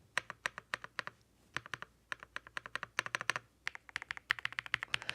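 Rapid, crisp keystrokes and spacebar presses on a new 65% computer keyboard, typed close to the mic in quick bursts with short pauses, loud and with no talk.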